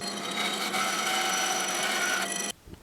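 Power saw cutting a wooden armrest for a Morris chair along a marked line, a steady loud whining cut with a humming motor, stopping abruptly near the end.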